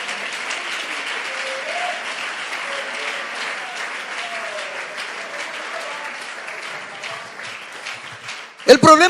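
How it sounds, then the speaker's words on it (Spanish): Congregation in a church service claps steadily for the Lord, a dense, sustained wash of hands with a faint voice over it, ending in a few louder close bumps. "Dele fuerte ese aplauso al Señor"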